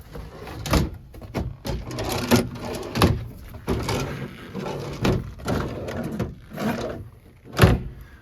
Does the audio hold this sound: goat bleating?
no